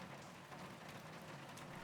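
Steady rain falling as a constant, dense hiss with soft patter, fairly faint and unbroken throughout.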